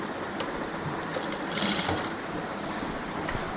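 A sewing machine stitches the hem of a salwar, a steady close mechanical whirr with rapid needle clatter running almost the whole time, briefly louder near the middle.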